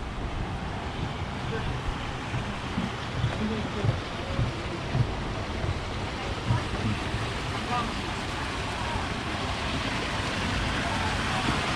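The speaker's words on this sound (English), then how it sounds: "You can hear the water coming out of it." Steady rushing water pours continuously from a gold mine drainage, broad and noisy, with a faint low rumble underneath and no clear speech.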